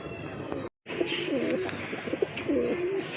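Pigeons at a pigeon market coo in soft, rolling repeated calls, several throaty warbles close by over a low murmur of market noise, briefly cut by a short silent gap.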